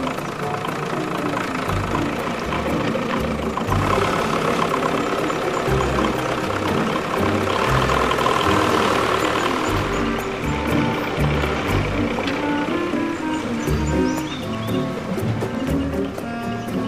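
A small tractor engine runs steadily throughout on the island of Sark, a chugging mid-range drone with rattling and clanking mixed in, fairly close and continuous.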